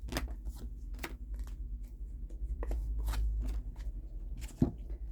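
Goddess oracle cards are shuffled close by in soft, repeated riffling bursts over a low background hum, with a sharper snap near the end.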